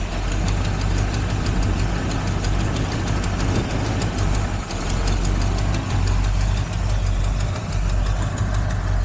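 A 1969 Ford Fairlane V8 engine idles steadily at about 650 to 700 rpm, a loud, close, continuous rumble with a slight rhythmic lope and no voices.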